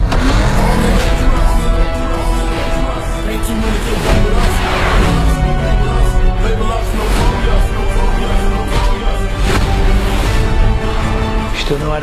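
Race car engines revving hard with tire squeals and a dense, loud mix of roaring acceleration, continuous and intense throughout.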